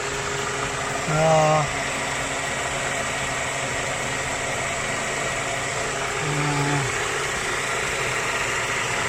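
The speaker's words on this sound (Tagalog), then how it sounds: "the engine is running, and it's been running for 30 minutes" A 2006 Nissan X-Trail T30 engine idles steadily after an oil cooler leak repair, giving a constant mid-level hum, with brief voices or tones breaking in twice.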